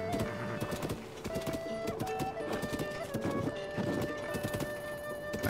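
Horse hooves clip-clop in a quick, steady rhythm in The Legend of Zelda: Tears of the Kingdom, with a brief neigh, continuous and fairly close, alone with no talk.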